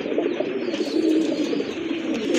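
A pair of satin pigeons, a Danless cock and a Jorna satin hen, coo steadily and close by in a pigeon market, with a soft continuous layer of low murmuring calls and faint background bustle.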